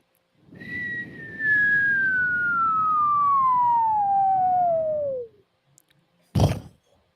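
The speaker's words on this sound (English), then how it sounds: "getting that wild coyote whistle sound when falling all the way down" A cartoon falling-whistle sound effect slides smoothly from high to low pitch over a few seconds, followed shortly by a single sharp thud.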